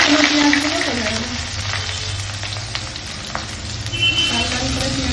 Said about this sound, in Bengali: তরকারি করে পেঁয়াজগুলোকে ভেজে নিতে হবে।